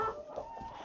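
A white leghorn hen gives a short, nasal cluck at close range, brief and moderately loud against a little room noise.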